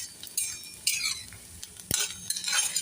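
Onion frying in a pan for upma until reddish, with a metal spoon stirring and scraping against the pan, giving several sharp clinks and scrapes over a faint background sizzle.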